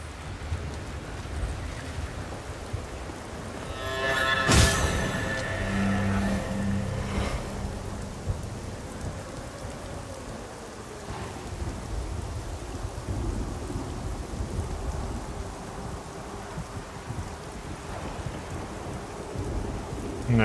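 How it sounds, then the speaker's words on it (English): Steady rain hisses throughout in the video game Lords of the Fallen, with a low rumble of thunder and a sharp crack near the start before the downpour continues evenly. "It's still raining."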